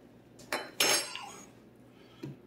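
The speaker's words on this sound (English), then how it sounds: "let me rinse my spoons" Metal spoons clatter and clank in a home kitchen while being rinsed during a cooking session, giving two sharp close knocks followed by a softer clink, with no talking.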